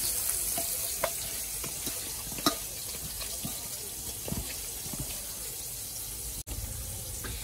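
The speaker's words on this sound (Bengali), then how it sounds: "আর এদিকে তো পটল ভাজা চলছে।" Slices of pointed gourd (potol) fry in oil, making a soft, continuous sizzle with scattered crackles and small clicks from the pan, fairly quiet and without speech.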